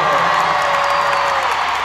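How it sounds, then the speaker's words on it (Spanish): Audience at a live concert in Cajamarca, Peru, in 2019, a broad roar of clapping and cheering that stays loud and continuous throughout. "Un aplauso."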